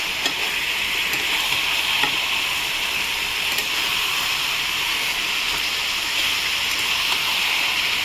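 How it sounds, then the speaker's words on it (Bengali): Fish-head mixed vegetable curry stirred in a pan of hot oil, loud continuous frying sizzle with faint scraping, close and steady throughout, no talk. "ভালো করে নেড়ে নিয়ে ফিরছি।"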